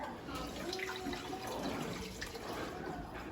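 Water mixed with chicken bouillon pours over meat for birria tacos, making a soft, steady splashing stream that is faint and continuous from start to end.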